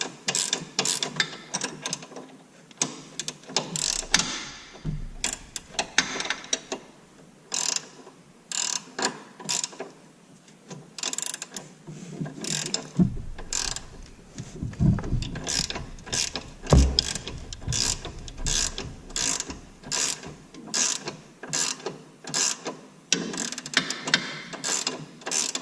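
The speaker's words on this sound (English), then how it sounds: "I let the wrench slip whenever I was tightening this up." A wrench ratchets while a quick detach pin is tightened on a Can Am X3 72 inch, giving bursts of rapid clicking separated by short pauses, close and fairly loud.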